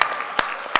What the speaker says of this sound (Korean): 이야, 박수.